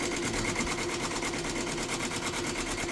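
An SWF 16-color embroidery machine stitches a logo in a steady, fast mechanical rhythm, a continuous near whir with a constant high buzz and no talk.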